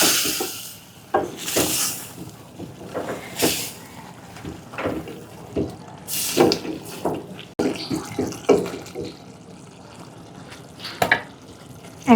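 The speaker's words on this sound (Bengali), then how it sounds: "এখন আমি চুই ঝাল আর রসুন দিয়ে দিব, আস্ত রসুন।" A spoon stirs whole garlic cloves and chui jhal into pigeon curry simmering in oil, giving intermittent scraping and clinking strokes over a soft low sizzle.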